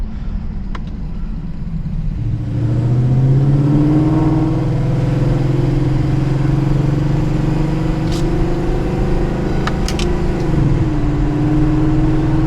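A Mercedes E63 AMG with an engine tick is driven at around 2500 RPM in manual mode, its engine a loud, close, steady hum that rises after a quieter opening and holds with slight pitch changes.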